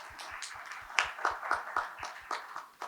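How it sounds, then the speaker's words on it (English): Audience applause at a Hindu temple gathering with members of the Jewish community, a sparse, moderately quiet patter of individual claps in an uneven rhythm with a few louder hits. "Give a round of applause, please."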